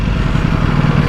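A 2020 Ducati Panigale V4S engine runs loud and close in a steady, continuous roar with no talk over it.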